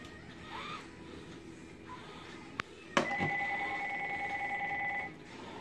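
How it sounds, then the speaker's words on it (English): A phone rings in a kitchen with a steady electronic trill that starts abruptly partway through and repeats evenly for about two seconds before stopping, with a sharp click just before it. "Fucking phone, shut up."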